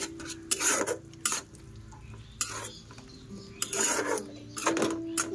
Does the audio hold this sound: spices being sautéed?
yes